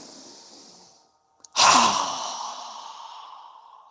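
One deep exhale through the mouth during a seated yoga breathing exercise, a close breathy rush that starts sharply after a brief pause and fades gradually over about two seconds.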